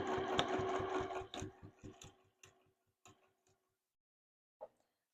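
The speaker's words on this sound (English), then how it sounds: "I am just going to start sewing straight on down this edge" A sewing machine stitches quilt binding along an edge with a 1/4 inch seam allowance, a rapid mechanical patter that slows into separate ticks and stops, followed after a pause by a single soft click, heard up close without talk.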